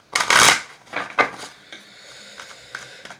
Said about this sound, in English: You guys hear me shuffling?